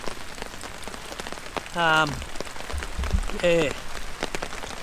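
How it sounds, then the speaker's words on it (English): Steady rain patters on a camping tarp over a bushcraft camp in the cold, a dense even hiss throughout, with someone speaking briefly in the middle. "it looks like we could be in for some rain tonight. It's coming down."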